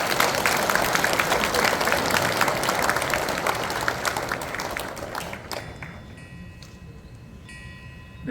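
Audience at a Buddhist dharma ceremony marking the 25th anniversary of a Busan teachers' Buddhist association claps together, broad dense applause lasting about five seconds before fading to a quiet hall.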